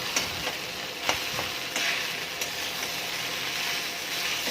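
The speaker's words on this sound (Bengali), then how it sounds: "ডিম দিয়ে ভালো করে নেড়ে চেড়ে ভেজে নেব।" Egg frying for egg chowmein, a steady close sizzle in the pan broken by several light scrapes and taps as it is stirred, with no talk.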